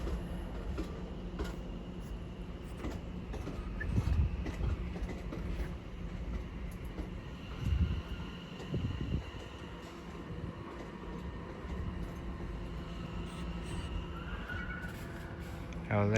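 Class 710 electric train arriving at Watford Junction station, a quiet rolling rumble with clicking wheel beats and occasional squeals, set against platform ambience and faint distant voices.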